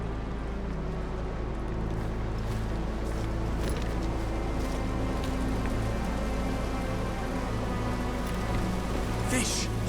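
Steady rain pours in a video game's outdoor scene, a dense continuous hiss and patter at constant loudness throughout, with a few faint higher splashes and drips standing out near the end.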